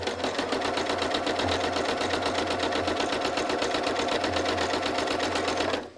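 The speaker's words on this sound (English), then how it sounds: "I'm going to stitch another line of shells from point to point" A domestic sewing machine running steadily at high speed while machine-quilting lines of shells on a Splendid Sampler block, a dense rapid needle rhythm close up and continuous for about six seconds before stopping.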